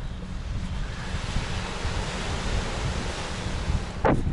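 Waves breaking on Brighton Beach on a cold November day, a continuous close wash of surf mixed with wind rumble and buffeting on the microphone.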